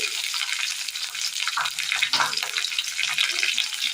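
Ginger, garlic and shallots, with a pinch of mustard seed, sauté in a pan for a Kerala fish curry of karimeen (pearl spot), giving a steady close sizzle and crackle with soft stirring scrapes throughout.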